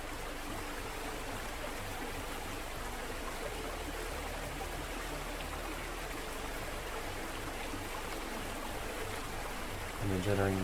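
Water is released in the Big Bang VR game, producing a continuous, even stream-like rush that is quiet and steady and swells slightly at the very end.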